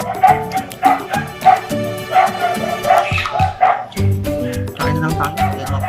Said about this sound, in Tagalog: Nakakaloka yung mga aso, no?